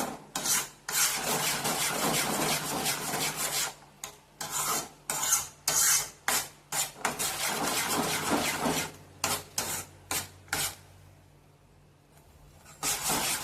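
A spoon scrapes and stirs a thickening mango mixture in a pan, with repeated rasping strokes in a steady rhythm, close and fairly loud, then a brief pause before the strokes resume.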